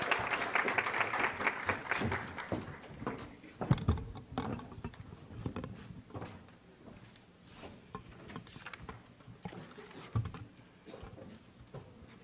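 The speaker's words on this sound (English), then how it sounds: "Give them a round of applause." Audience applause at a college global fashion and talent show, a full burst of clapping for the opening seconds that thins out into scattered, fading claps and small clicks in a quiet hall.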